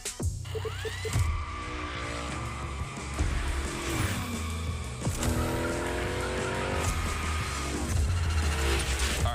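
A Hoonigan car in The Crew Motorfest racing game slides through gymkhana drifts with loud tire squeals over a revving engine, the screeches rising and sweeping several times as it swings from slide to slide.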